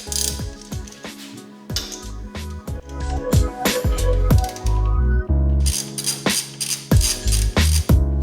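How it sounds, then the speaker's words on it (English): A 12mm socket ratchet clicks in quick bursts while a bracket is removed on a Subaru WRX/STI, close and loud, with sharp pawl ticks and a few metallic knocks. "And then you wanna get the 12mm socket to remove the bracket."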